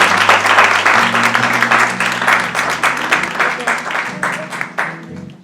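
A church congregation breaks into sustained applause and cheering for the Lord, dense clapping and voices filling the room steadily for several seconds while a low musical drone or organ tone continues underneath.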